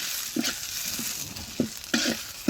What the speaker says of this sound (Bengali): তো নুডলস রান্না করতেছি আর কি